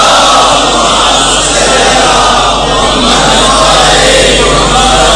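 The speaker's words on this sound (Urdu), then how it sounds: "صلوات پڑھ لیں محمد و آل محمد" A large crowd at an Eid-e-Ghadeer religious gathering loudly reciting salawat together, a dense, continuous roar of many voices at full volume, heavily saturated and sustained throughout.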